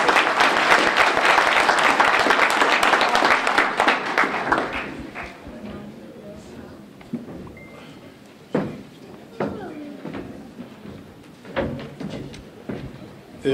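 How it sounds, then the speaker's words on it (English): An audience at an NAACP Martin Luther King Jr. breakfast bursts into dense applause that fades after about five seconds, followed by scattered thumps and knocks in the room with voices speaking. "Give him a hand clap."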